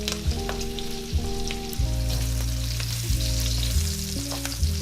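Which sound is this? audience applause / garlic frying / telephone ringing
garlic frying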